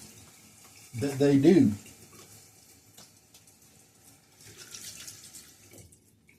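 Cold water runs from a bathroom tap for rinsing after a wet shave, a short burst of splashing flow near the start, then quieter trickling with brief talk later.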